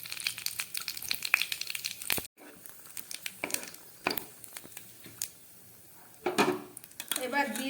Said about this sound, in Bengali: তেলটা গরম হয়ে গেছে, এবার দিয়ে দিচ্ছি তেজপাতা, শুকনো লঙ্কা, সামান্য জিরে।